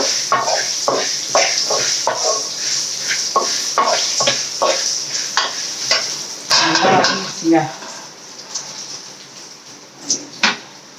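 Pirandai (adamant creeper) thuvaiyal ingredients sautéing in a pan, with a steady sizzle under repeated sharp scrapes of a spoon stirring against the metal, close and fairly loud, a brief burst of heavier clatter midway.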